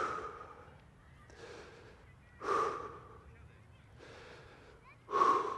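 Steady mouth breathing during a fascia exercise, with soft inhales and two sharper, louder exhales spaced a few seconds apart, close to the microphone.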